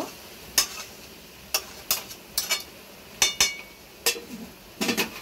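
Mutton for mutton kosha is sautéed in a pan, with sharp, separate spoon scrapes and clinks against the pan over a faint background sizzle, close and intermittent.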